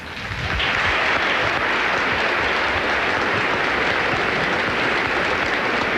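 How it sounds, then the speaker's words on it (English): Large tournament crowd applauding the director at the 1999 Cincinnati tennis final, a dense, steady roar of clapping that swells in quickly and holds loud and unbroken throughout. "I think we all should applaud Paul Flory"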